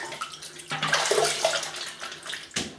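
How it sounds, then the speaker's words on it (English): Hands are rinsed under running water from a tap, a close, steady splashing stream with brief changes as the hands move through it, briefly interrupted before resuming at the end. "Just going to rinse my hands a little bit."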